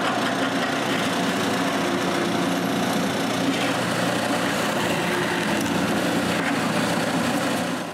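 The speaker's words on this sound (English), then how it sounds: "The rest of the hole is cut on the scroll saw." A scroll saw buzzes steadily as it cuts through wood, a loud continuous motor whine running the whole time with no voices.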